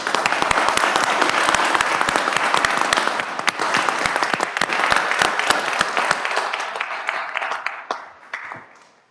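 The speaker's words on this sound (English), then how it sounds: "Let's give these guys and gals a round of applause." A crowd at an Orland Park village committee meeting gives a round of applause for ESDA members, dense steady clapping lasting several seconds before tapering off near the end.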